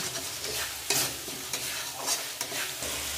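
Masala with ground coriander is stirred and fried in oil in a pan, a steady close sizzle broken by periodic scraping strokes of the spatula roughly every half second, with no voices.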